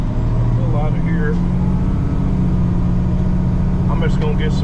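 A truck pulls out and drives off, its engine a loud steady low rumble with faint higher whines and clatters over it and no pauses.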